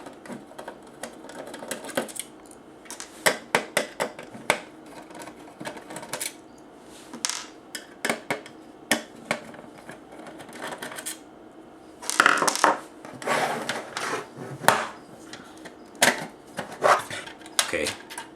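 Screws being taken out of a Philips BenQ Xbox 360 disc drive: rapid metallic clicks, taps and small rattles in irregular bursts, close and crisp, with a denser cluster of handling noise partway through.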